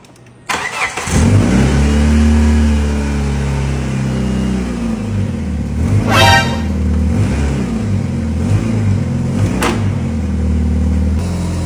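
A car engine cranks and starts, then idles loudly and roughly close by, with a couple of brief revs along the way.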